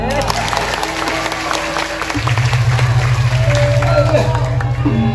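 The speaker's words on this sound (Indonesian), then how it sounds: "Tepuk tangan lalu." An audience claps and cheers at a traditional drama gong performance in Nusa Penida, Klungkung. The dense, steady applause carries through the whole stretch under crowd noise, voices and a low sustained tone.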